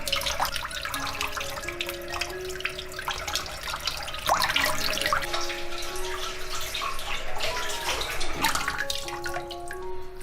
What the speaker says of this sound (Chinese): 今天买了一些冰鲜鸡翅膀，洗干净，挤去这里面的血水。